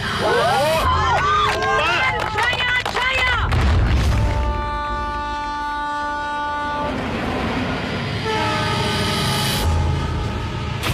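A train runs on railway tracks, with loud sustained rumbling, repeated blaring horn calls, and rolling clatter, while people talk over it.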